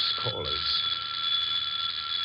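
A doorbell rings steadily and insistently in a 1946 radio drama, one sustained electric bell tone running throughout, with a brief voice heard under it at the start.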